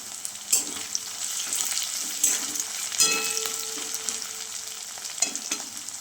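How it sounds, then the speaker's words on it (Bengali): Onion, garlic, dried chilli, bay leaf and ginger frying in oil, a continuous close sizzle with a few louder stirring scrapes now and then, no voices. "পেঁয়াজ রসুন শুকনো লঙ্কা তেজপাতা আদা সব ভেজে নিচ্ছি।"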